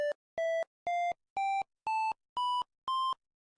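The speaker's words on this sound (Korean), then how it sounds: "도레미파솔라시도를 연주하기 위해 이렇게 코딩을 해보겠습니다" Seven pure computer beeps generated with Python winsound step upward through a do-re-mi scale, each lasting about half a second with short gaps, clean, electronic and isolated.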